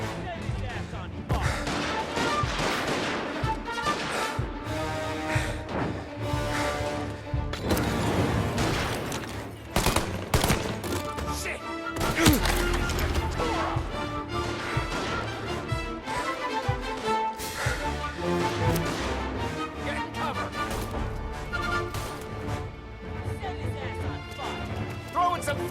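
Gunfire and crashing impacts in Mafia: Definitive Edition, rapid volleys of shots and smashes packed tightly over a dense game soundscape, with voices talking over the action.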